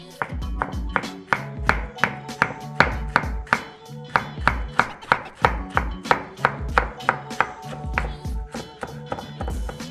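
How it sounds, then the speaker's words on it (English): A knife thinly slices through a bundle of rolled-up leafy greens on a cutting board, sharp close knocks repeating in a steady, quick rhythm throughout. "So first we're gonna do a very thin slice."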